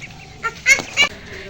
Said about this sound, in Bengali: দেখেছো হাঁস